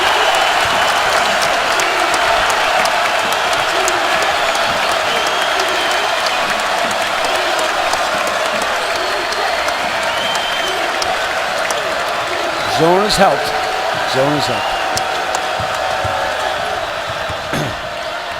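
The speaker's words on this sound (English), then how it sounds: "Here comes the crowd again." Basketball arena crowd roaring during an Iowa Hawkeyes run against Maryland, a sustained loud wash of cheering under play-by-play commentary, with squeaking sneakers and a brief swell near the end.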